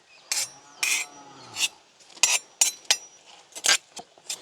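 Onions are pounded by hand in a village kitchen, giving about ten irregular, sharp close-up thuds and clinks with short pauses between strikes.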